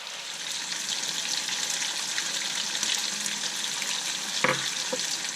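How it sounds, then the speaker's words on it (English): Dove meat and chopped tomato fry in a pan while being stirred, giving a steady close sizzle throughout with a brief utensil clack near the end; no talking. "She is going to dump the tomato in there and just stir it around just for a couple minutes."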